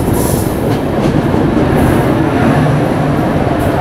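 A superfast express train runs steadily on rails while overtaking the Sultanpur superfast, producing a loud, continuous rumble and wheel noise with faint clattering throughout and no talk.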